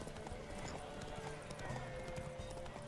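Roach the horse gallops in The Witcher 3 video game, a fast continuous run of hoof clip-clops with rhythmic pounding, close and steady under a bed of game ambience and music.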